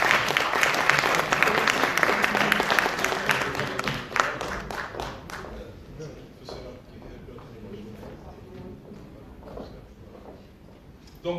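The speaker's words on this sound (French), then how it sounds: "Et je vous demande d'applaudir." An audience applauds at a sickle cell disease conference to greet the mayor's women's rights delegate. Dense clapping starts loud and steady, then thins and fades over several seconds, with talk beneath it.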